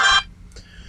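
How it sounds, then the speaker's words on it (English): A phone alarm ringtone sounds in a loud, bright burst, then cuts off, leaving a fainter tonal trailing sound, with no talking. "That's my alarm that I have set on my phone to tell me to check my blood sugars"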